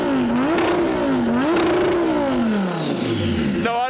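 A Lamborghini with a twin-turbo V10 revving, loud close blips that rise and fall twice, then a longer rev that winds down and settles, ending with a sharp fresh burst.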